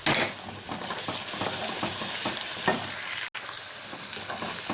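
Onions sizzling and frying in a pan as ginger and garlic go in for a restaurant-style moong dal, a steady loud hiss broken by stirring scrapes and a brief pause, with no speech.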